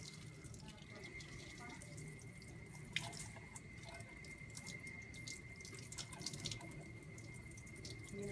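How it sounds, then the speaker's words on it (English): Sink tap running while hands are rinsed during a handwashing routine, a steady close hiss of water with small splashes and a brief clank near three seconds, continuous throughout. "Turn the water on."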